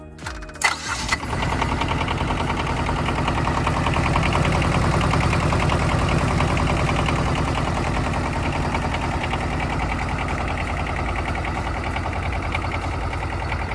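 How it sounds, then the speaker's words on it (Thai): A small diesel engine on a 1.2-ton Komochi KC12-8C mini excavator cranks and catches after a second, then idles steadily with a low, even rumble close by for the rest of the clip. "เรามาลองฟังเสียงเครื่องยนต์ดูนะครับ"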